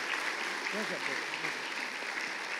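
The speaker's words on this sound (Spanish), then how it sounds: "Por favor, con un aplauso a mi querido pastor Rubens, apóstol Rubens." Church congregation applauding their pastor in a steady, moderately faint wash of clapping with a murmur of voices underneath, continuing evenly throughout.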